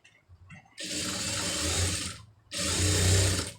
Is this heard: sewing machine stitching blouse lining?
yes